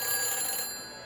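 A telephone rings in a phone booth in the Back to the Future video game: a steady electronic bell tone, fairly loud and close, that fades slightly toward the end with no talk over it.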